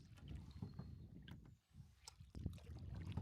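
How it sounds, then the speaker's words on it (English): Solo canoe paddling on a quiet creek: soft, irregular paddle strokes and gentle water trickles close by, with light wind noise and no talking. "The day of creek paddle begins."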